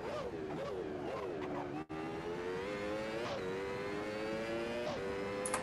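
The engine of an Andrea Moda S921 Formula car in a video game whines at a steady high pitch, rising and dipping slightly with brief shifts, continuous and clear with no voices.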